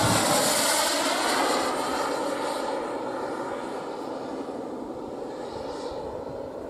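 A Viper Jet 2.6 m RC model jet with a Kingtech 210 turbine flies past, its loud roaring whoosh of turbine noise slowly fading as it moves away.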